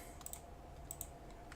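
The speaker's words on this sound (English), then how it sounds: "I'm going to hit Delete on my keyboard after dragging that out" Key presses on a computer keyboard while editing in Inkscape, heard as a few faint, sharp clicks in two small pairs against a quiet room hum.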